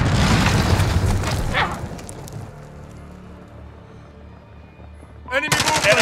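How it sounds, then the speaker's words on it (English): Heavy gunfire and a booming explosion fill a Modern Warfare Headquarters match, loud bursts at the start fading to a quieter lull before another sharp burst of shots near the end. "Target down. Throwing grenade."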